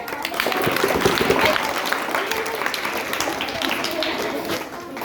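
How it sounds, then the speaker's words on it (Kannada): Loud, sustained applause from an audience at a Karnataka Rajyotsava cultural program, a dense wash of clapping filling the whole stretch and easing slightly near the end. "ಇವರಿಷ್ಟು ಜನಕ್ಕೆ ಒಂದು ಜೋರಾದ ಚಪ್ಪಾಳೆ"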